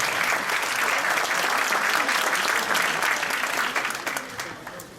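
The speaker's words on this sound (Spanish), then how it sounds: "lo recibimos con un aplauso de bienvenida" A university lecture audience in Chile gives a welcoming round of applause for visiting speaker Dr. Pedro Orihuela Díaz, dense and steady clapping that holds loud then tapers off near the end.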